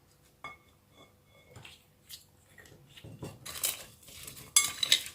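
Vegetables and fruits are stirred with olive oil in a dish, giving soft scraping and clinking of a utensil against the bowl in irregular strokes. The strokes grow busier and louder toward the end, with no voices.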